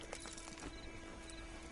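Red Dead Online horse hooves clip-clopping at a steady pace, soft and slightly distant beneath a dense bed of ambient game sound.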